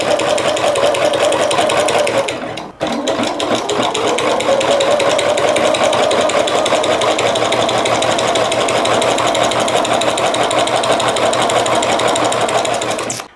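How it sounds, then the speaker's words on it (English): A sewing machine runs loud and steady while chain stitching quilt squares for a rag quilt, with a rapid mechanical whir that pauses once briefly early on and then continues unbroken to the end. "we are just going to chain stitch from the opposite corner in the very same manner"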